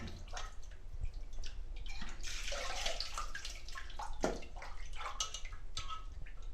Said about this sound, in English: Fourth time washing going on.